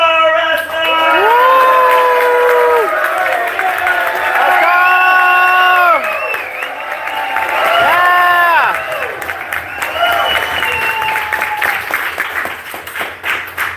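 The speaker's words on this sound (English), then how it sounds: "who's ready to cheer for our sumo wrestlers?" An audience at a sumo wrestling event cheers and whoops loudly and continuously for the wrestlers, a dense crowd roar with rising shouts and clapping throughout.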